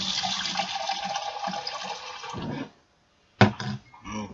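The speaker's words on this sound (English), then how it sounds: "So I'll put the water in." Water pouring from a tap or into a vessel to make tea, a steady rushing splash that stops abruptly, followed by a brief clink and a short burst of liquid.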